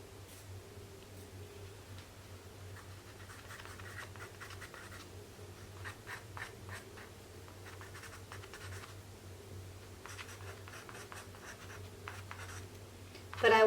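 Pencil burnishing highlights into a paper drawing of fur: close, quiet, repeated scratchy strokes in short bursts over a low steady hum.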